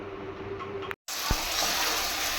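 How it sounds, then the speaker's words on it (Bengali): Potatoes fry in a pan for chow mein, giving a steady close sizzling hiss that cuts out for a moment, then resumes with a soft clatter. "তো এখন আলু ভাজা হচ্ছে চাউমিনের জন্য"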